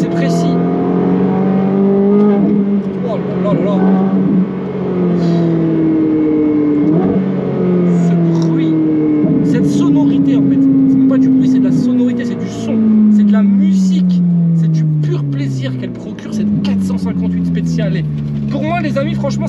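Ferrari 458 Speciale with an IPE exhaust and 430 Scuderia with a Capristo exhaust, loud V8 engines revving and shifting through gears up close, pitch climbing and dropping in repeated sweeps, with voices talking underneath.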